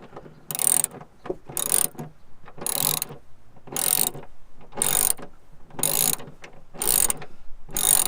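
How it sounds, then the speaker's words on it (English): A hand ratchet tightens a bolt on a Nissan 350Z during a rear wiper delete, giving bursts of fast clicking strokes, about eight in a row separated by short pauses, close and crisp with no talking. "Now we're going to take our ratchet and go ahead and start tightening this up."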